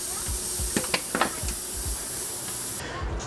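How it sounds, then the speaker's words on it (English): Aerosol can of wax and grease remover spraying onto a custom painted panel, a steady broad hiss running almost the whole time with a few short clicks and bursts, then cutting off near the end. "Wax and grease remover is your friend."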